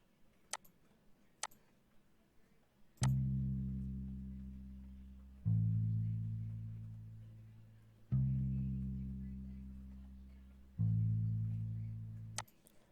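A lo-fi bass line plays long sustained whole notes, four deep held tones each fading slowly, with faint ticking clicks around them and no talking.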